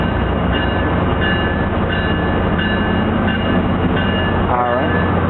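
Commuter train halting unexpectedly, a loud, continuous rumble of rolling stock with brief squeal-like tones near the end and a voice faintly under the noise.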